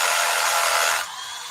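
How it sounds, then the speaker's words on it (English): A Bosch Bulldog rotary hammer drilling in a radio advert, a loud, dense, hissing mechanical whir for about a second that then cuts down to a faint residue. "Bulldog Rotary Hammer!"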